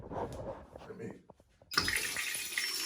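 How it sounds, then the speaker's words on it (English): An Amazon bidet smart toilet, flushed with a foot press, starts with a sudden loud rushing flush after a quiet stretch with some speech and shuffling, and the water noise continues steadily to the end. "I did it with my foot again to flush it, so you don't have to touch anything."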